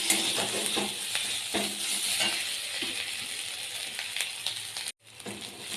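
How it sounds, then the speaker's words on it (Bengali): Spices frying with cumin paste in a pan, a steady close sizzle with occasional stirring clinks, briefly cutting out near the end before resuming. "জিরে বাটা দিয়ে বেশ কিছুক্ষণ কষিয়ে নেব।"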